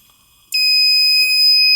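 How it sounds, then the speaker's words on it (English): A Simplex fire alarm relay wired to a strobe NAC trips on with a sudden onset: a loud, piercing, steady electronic alarm tone that holds continuously after a brief quiet start. "I got this fire alarm relay that's actually manufactured by Simplex."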